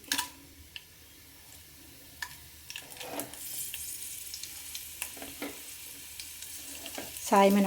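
Tempering spices, chana dal and dried red chillies, frying in hot oil, a quiet steady sizzle punctuated by sharp spoon taps and scrapes against the pan, swelling to a louder burst at the very end, no speech.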